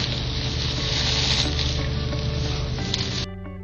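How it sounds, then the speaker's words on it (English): Steady crackling sizzle of onions frying crisp in hot oil for Hyderabadi mutton biryani, continuous and close, stopping abruptly near the end. "The perfectly crisped onions will sound like this."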